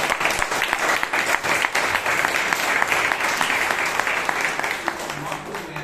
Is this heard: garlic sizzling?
no